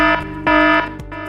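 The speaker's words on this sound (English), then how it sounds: "If you hear the alarm sound" A loud electronic alarm tone sounds in repeated bursts, a steady harmonic buzzing pulse with brief gaps, in a brewery setting with a brewing area and wastewater treatment plant.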